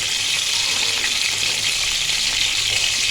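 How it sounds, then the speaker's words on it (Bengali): Pointed gourds (potol) frying in oil in a wok, a loud continuous bright sizzle with no talk, steady throughout. "তেল পটলের জন্য আমি কড়াইতে তেল দিয়ে একে একে পটলগুলো সব দিয়ে দিলাম"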